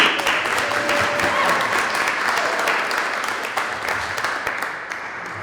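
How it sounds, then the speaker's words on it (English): An audience at a show revue claps for performers, loud, dense applause that holds steady and thins slightly toward the end. "Round of applause for all the artists that performed before me."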